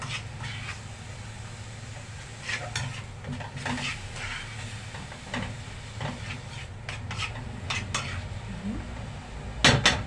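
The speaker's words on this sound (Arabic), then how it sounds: "شوح البصل كده مع حته السمنه" Onions sautéing in ghee in a pan, with a steady soft sizzle under repeated scraping and clinking of a spoon against the pan, louder scrapes near the end.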